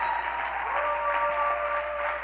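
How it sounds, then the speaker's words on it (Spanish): A church congregation fills the room with sustained, even applause, a thick continuous roar of many hands with a soft held keyboard tone sounding underneath. "Alguien dele un aplauso que honre a Cristo."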